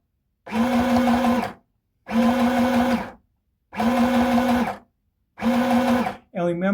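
A sewing machine stitches back and forth on cotton fabric in four separate runs of about a second each, a close steady motor whirr with short pauses between bursts, and a voice cuts in at the very end.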